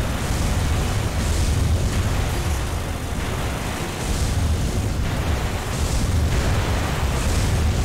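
Missile and weapon explosions in the video game Armored Core 3, a dense, continuous roar of booming blasts that swells and dips in repeated waves with no talk.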